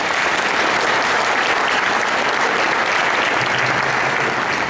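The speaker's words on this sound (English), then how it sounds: "Please give him a loud applause." Loud, sustained applause from a conference audience honouring a Malaysian deputy minister of human resources, a dense, even roar of many hands clapping throughout.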